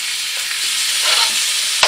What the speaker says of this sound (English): You hear that sizzle? That's exactly what you want, folks.